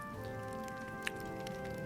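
Rain falls in the video game Metaphor: ReFantazio as a soft, steady patter of drops, faint and continuous beneath held musical tones.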